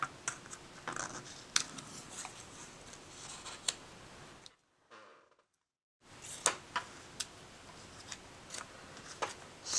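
Scissors snip paper pieces for a surreal collage in short, sharp, irregular cuts at close range. A silent gap falls midway, then the snipping resumes, with no talk.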